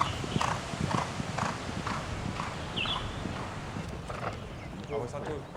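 A horse's hooves clip-clop in a steady walking rhythm near a riding stable, fairly close and moderately loud, with people talking over them.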